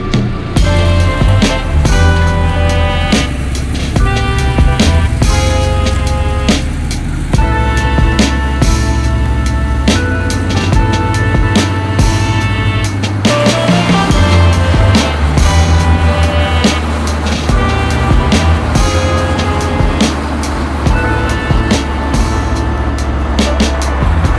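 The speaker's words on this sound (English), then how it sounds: "The dyno." A Porsche 964 engine runs hard on a dyno, loud and close. Its sustained roar rises and falls in pitch as the revs climb, with no talk over it.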